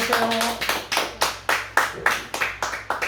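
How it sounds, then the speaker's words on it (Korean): Church congregation clapping in unison, about a dozen sharp, evenly spaced claps in a steady rhythm, close and clear, with a brief voice at the very start. "다시 한번 박수 한번 드리겠습니다"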